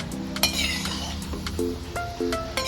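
Shankarpali, a sweet Diwali snack, frying in oil, with a steady low sizzle under several sharp metallic clinks and scrapes of a utensil against the pan.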